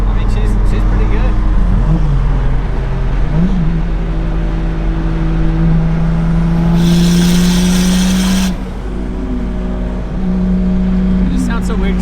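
Engine of a 2JZ-swapped Mustang running with the exhaust cutout open, a steady low drone with rising and falling revs through the whole stretch, heard from close by with people talking over it.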